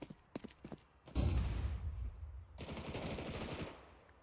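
AK rifle fire in the video game Counter-Strike 2, with a few sharp single shots followed by a loud sustained burst of automatic fire and a second rattling burst, all close and without talk.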